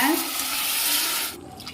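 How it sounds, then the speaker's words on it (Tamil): Cooking water from boiled green peas pours into a pan for Tamil-style pattani sundal, a steady close splashing stream lasting over a second before cutting off into faint room tone. "சுண்டல் வேக வச்ச தண்ணியை ஊற்றிக்குவோம்"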